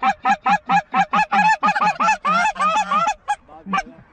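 Geese honk loudly and rapidly during a goose hunt, a dense run of close, overlapping calls that thin out into a few scattered honks.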